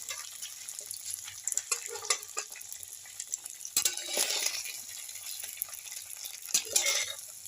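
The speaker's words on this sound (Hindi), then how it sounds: "तो अब हम स्पैचुला की मदद से इसे दूसरी तरफ को आराम आराम से पलट लेंगे" Leftover rice breakfast snack sizzles and fries in a kadhai while a spatula scrapes and clinks against the pan to flip it, with a steady crackle and a few sharper metallic taps.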